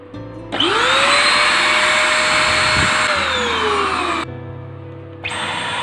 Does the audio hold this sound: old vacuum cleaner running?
yes